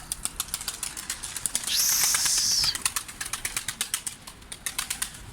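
Rapid, fluttering wingbeats of young pigeons in flight, close by, with a brief burst of louder rushing flaps in the middle.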